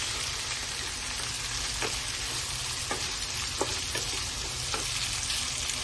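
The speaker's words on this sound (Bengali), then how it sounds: "কাজু আর কিশমিশের মধ্যে যতক্ষণ না একটা কালার চেঞ্জ হয়ে আসছে ততক্ষণ আমি ভেজে নেব।" Soaked cashews and raisins frying in a pan, a steady close sizzle with occasional stirring clicks and pops throughout, no voices.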